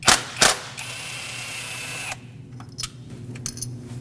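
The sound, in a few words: 10 mm socket ratchet removing ignition coil bolt, Nissan Frontier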